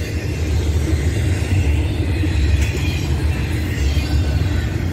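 A very long Norfolk Southern freight train rolls past close by, a loud steady rumble and clatter of wheels and wagons that fills the whole stretch without pause.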